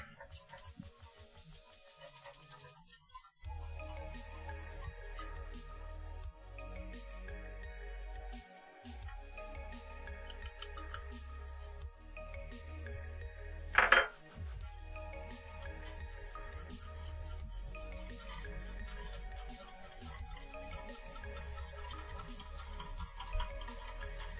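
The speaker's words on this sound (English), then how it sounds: "A little whisk action" A whisk beats burger batter in a bowl with a fast, steady, faint ticking and clicking that runs throughout, and one brief louder clatter partway through.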